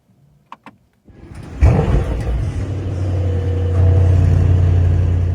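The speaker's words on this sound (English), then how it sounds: "I will start the engine by holding the downshift, and in this way it will start in a very aggressive way" A 2024 Mercedes S63 AMG starting aggressively with the downshift paddle held: a couple of soft clicks, then the engine cranks and fires with a loud bark that settles into a deep, rising rumbling idle, close and without talk.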